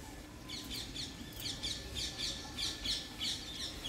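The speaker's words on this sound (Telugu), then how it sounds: "అన్నీ రామ చిలుకలే చూడండి" A flock of rose-ringed parakeets circles overhead, giving rapid, repeated shrill squawks in a steady pulsing rhythm. The calls sound fairly distant and soft, with no talking.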